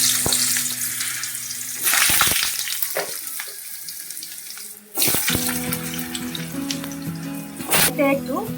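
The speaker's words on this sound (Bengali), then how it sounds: "হলুদ আর লবণ দিয়ে আলুগুলো আমি ভেজে নিচ্ছি।" Potatoes fry with turmeric and salt in a pan, a loud, close, spluttering sizzle with bursts of hissing and scraping, plus some watery splashing.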